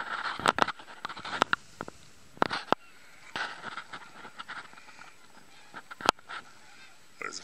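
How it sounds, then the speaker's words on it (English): A flock of geese honks outdoors, scattered loud calls in uneven bursts, some overlapping, with quieter stretches between. "There's a whole bunch more geese someplace. You can hear them, but you can't see them."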